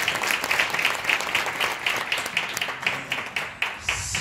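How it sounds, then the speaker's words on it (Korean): A church gathering's congregation claps to welcome a mission group's leader to the front, a loud, steady applause with a slightly rhythmic pulse that carries through about four seconds. "우리 박수로 모시겠습니다"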